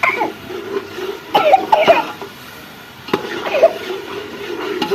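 A child coughs in a few short bursts, close by, with faint voices murmuring in the background.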